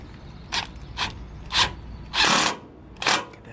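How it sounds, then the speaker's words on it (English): Screws being driven back into an RV slide-out wiper seal track on a 2007 Fleetwood Bounder, five short whirring bursts of a power driver spaced about half a second apart, close and alone. "So now we're going to go ahead and put those screws back in."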